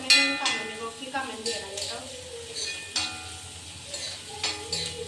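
Onions frying in a fish pan with a bright sizzle and spatter, broken by repeated stirring scrapes and clinks of a utensil against the pan, while someone talks over the cooking.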